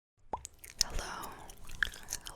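Gum chewed close to the mic in a soft ASMR whisper setting, with wet, sticky smacks and small crunchy clicks spread across a couple of seconds, and a hushed voice between them.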